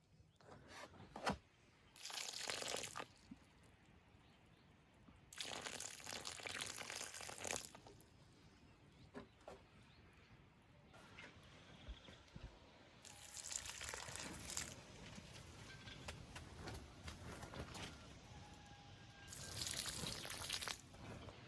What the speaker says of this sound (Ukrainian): під кожну рослинку я виливаю приблизно 200-300 мл розчину